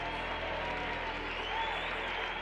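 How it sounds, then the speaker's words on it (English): An auditorium crowd cheering and applauding at the moment of an Apollo impact, a dense, steady wash of clapping throughout, heard from within the room. "When impact occurred, the auditorium erupted in a great cheer."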